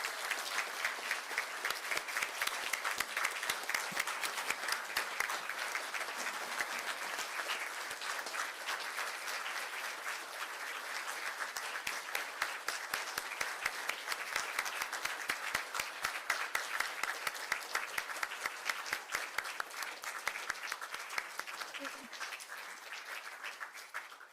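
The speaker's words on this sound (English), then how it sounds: "If we could please give them a round of applause for their many, many years of service." An audience applauds contractors, vendors and inspectors at a celebration, a dense, steady wash of many hands clapping that carries on without a break for the full length at a fairly even level.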